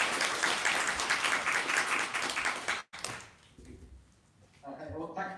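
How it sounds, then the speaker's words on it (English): Applause from an audience in a room, steady broadband clapping lasting about three seconds, then a sudden stop followed by quieter room noise and a voice beginning to talk near the end. "Big round of applause."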